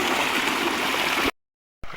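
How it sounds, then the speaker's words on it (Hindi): Water gushes steadily from an electric water pump motor in a village setting, a loud continuous rushing flow that cuts off abruptly into silence before resuming briefly. "क्योंकि पानी अब काफ़ी सारा कम कर चुकी है ये मोटर"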